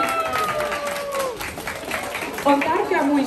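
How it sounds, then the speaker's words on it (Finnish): Audience applause at a school's cultural day celebration, a steady broadband patter of clapping with crowd murmur and voices mixed in, swelling slightly toward the end. "Aplodit."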